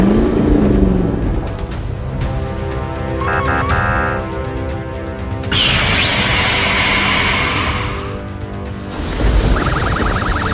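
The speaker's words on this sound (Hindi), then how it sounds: "देखते ही देखते दमकल की गाड़ी जेट थ्रस्टर्स की मदद से आसमान की ऊंचाइयों को छूने लगती है।" Cartoon jet thrusters lift a fire engine into the sky, with a loud roaring whoosh that rises and surges in bursts, backed by bright synthetic tones.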